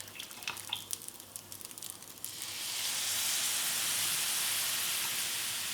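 Pasta water poured into a hot pan of spaghetti carbonara sets off a crackling sizzle. It swells into a loud, steady hiss of steam that lasts several seconds, close up, with no talking.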